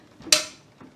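A loaf pan set back into a bread machine during baking gives one sharp clack with a brief metallic ring, followed by a soft rattle of handling.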